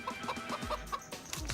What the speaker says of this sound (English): I saw some chickens out here.